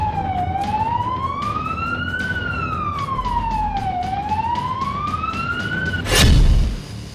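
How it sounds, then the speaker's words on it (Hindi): A wailing siren sweeps slowly up and down in pitch, sounding continuously and loudly across Moscow, with a brief louder whoosh of passing traffic near the end. "प्रथमे शुणि नियंतु मस्को सहर भितरे बजुथुबा एही साइरन"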